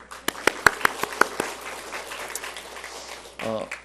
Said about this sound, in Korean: 하나님께 영광의 박수를 드릴까요?